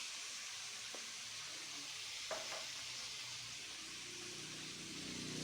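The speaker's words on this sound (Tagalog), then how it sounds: "Gigisa natin. Ayan, habang ginigisa natin" Chicken sautéing in a pan for pochero, a steady faint sizzle with an occasional stir or scrape, alone without talk.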